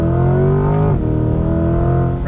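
A 2020 Chevrolet Camaro ZL1 1LE with a naturally aspirated engine accelerates hard, its loud, steady engine tone climbing in pitch, briefly dipping at a shift, then rising again, heard from inside the car.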